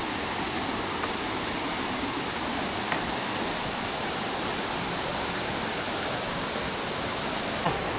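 Water pours steadily at Cedar Falls in Bukidnon, making a continuous hissing roar, fairly loud and close, with a couple of faint knocks and no talk.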